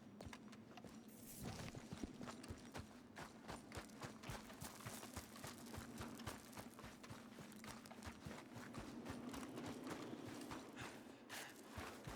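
Horse hooves clip-clop steadily in the video game Red Dead Redemption 2. The even, close hoofbeats run through the whole stretch over a quiet outdoor ambience.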